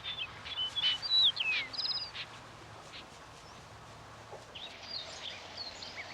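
Thin, high-pitched calls from a snipe in a Hokkaido marsh, a few sharp chirping notes close together and fairly clear, followed by quieter scattered chirps against a hushed outdoor background.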